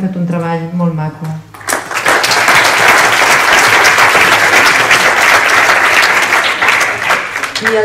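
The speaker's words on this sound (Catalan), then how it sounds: "jo sí que faria un aplaudiment a aquest grup que ha fet un treball molt maco" An audience at a rural paediatric-care conference session bursts into applause for a presenting group, a brief spoken lead-in followed by loud, sustained, dense clapping that continues to the end.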